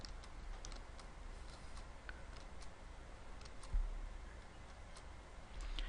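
Sparse, light clicks of typing on a computer keyboard, faint and close, scattered irregularly over a low hum.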